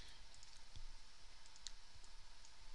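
A computer mouse double-clicked gives faint, crisp clicks in a quiet room, a few short taps standing out against low background hiss.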